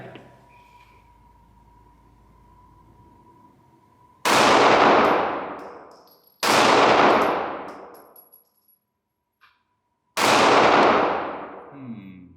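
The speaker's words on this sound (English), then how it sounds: "let's do some shooting and see, maybe I can hit one of those flippy pedals" A Sig Sauer P365 SAS 9mm pistol fires three loud, separate shots at steel targets. The first two come close together and the third follows after a short quiet gap, each with a sharp crack and a ringing decay.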